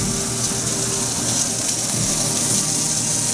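Carrots drop into a pot of water that has just returned to a boil while stir-fried vegetables are being cooked. A steady, close rushing and bubbling of water fills the whole stretch without any talk.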